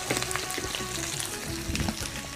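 Oil sizzles and crackles hard in a frying pan while a T-bone steak is cooked, a close, busy hiss with small spits and pops and no talk.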